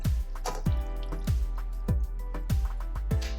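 Water splashes and drips in rhythmic pulses into a bowl of cut okra, close and moderately quiet over a steady background hum.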